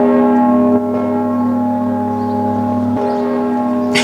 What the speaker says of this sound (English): Does somebody actually ring the church bell?